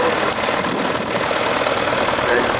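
A Ferguson tractor engine running after starting, a loud, steady, coarse mechanical roar with knocking texture, close and continuous.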